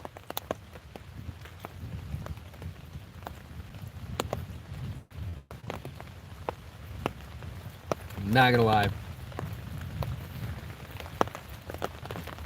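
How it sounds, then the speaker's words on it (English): Steady rain falling during a thunderstorm, a constant close hiss scattered with drips and taps on a surface. A person speaks briefly, and a louder rustling burst comes partway through. "This rain's supposed to be done soon"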